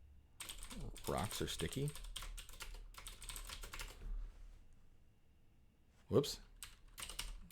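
Quick bursts of clicking on a computer keyboard, close and moderately loud, come in an irregular rhythm, pause briefly, then resume, while a person speaks over parts of the typing.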